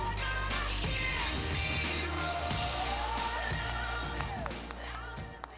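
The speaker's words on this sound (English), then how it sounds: "Got another round of applause for our finalist alliance, Team 1156, and 271." Crowd cheering and whoops fill an audience at a robotics competition awards ceremony in New York City, a steady loud roar with sharp shouts rising over it for several seconds, with no speech on top.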